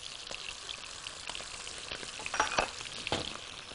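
Garlic and pepper frying in a pan give a soft, steady sizzle with small crackles and spits, fairly faint and continuous with no voices.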